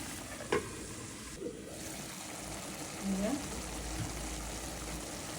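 Small kachki fish frying in a pan with whole green chilies over low heat, giving a soft continuous sizzle close by with a few clinks and stirring scrapes.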